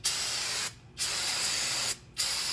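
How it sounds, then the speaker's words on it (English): Brake cleaner sprays onto the brakes of a 2006 Mercedes CLS500 in two long, loud, close hissing bursts separated by a short gap. "you always want to finish off with some brake cleaner"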